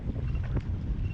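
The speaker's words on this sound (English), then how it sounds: "It's raining, and it's really windy." Strong wind buffets the microphone in a low, rumbling roar, gusting unevenly over a short moment, in rain while kayaking.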